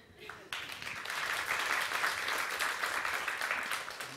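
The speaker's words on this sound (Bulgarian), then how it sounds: "Да, мерси за аплодисментите" An audience applauds a comedian's stand-up set, clapping starting abruptly and swelling into steady, fairly loud applause that carries on to the end.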